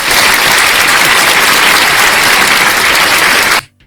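Loud, dense applause from an audience at a religious lecture, a steady wash of many hands clapping close up that cuts off abruptly at the end.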